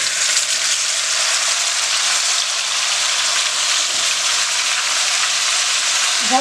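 Beef rib sizzles loudly in a hot pot, a steady close frying hiss running without a break.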